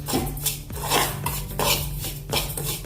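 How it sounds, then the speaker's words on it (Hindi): Broken wheat daliya dry-roasts in a pot on a gas stove, with a steady run of scraping and clinking as a spoon stirs the grains against the metal, up close and with no talking. "बर्तन गैस के ऊपर मैंने रख दिया है और गैस लगाकर अभी हम इसको भूनेंगे दलिया को।"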